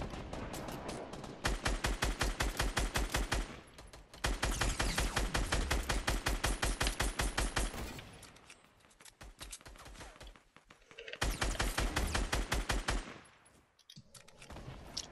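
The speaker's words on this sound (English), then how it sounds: "I'm trying to shoot everyone at once." Sustained automatic gunfire from a Fortnite match, loud and rapid in long bursts with brief pauses between volleys.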